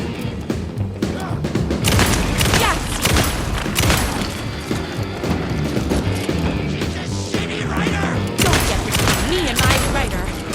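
Dense, loud gunfire from Alan Wake 2 rattles out in rapid bursts, shots and impacts piling up almost continuously with heavy booming thuds, while a voice is heard in the mix.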